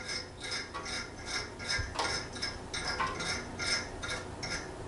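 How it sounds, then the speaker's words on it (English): A detail brush scrubs residue from the flame sensor and igniter of a gas fireplace pilot assembly, giving close, steady rhythmic bristle scratching in repeated short strokes, with no talking. "with my detail brush, I'm going to clean the residue off of the flame sensor."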